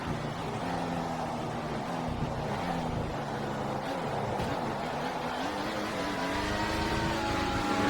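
A Formula 1 race car in a racing game at the 2014 Malaysia round, its engine droning and whining in rising pitch as it closes in and passes, with steady wet road and wind noise behind.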